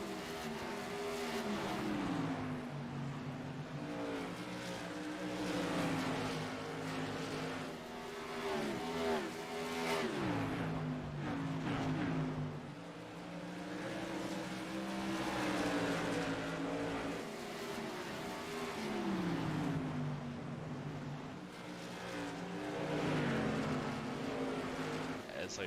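Modified race cars roaring around a short oval track in a championship race, several engines rising and falling as they pass and circle in a tight pack, with announcer commentary over the steady racing noise.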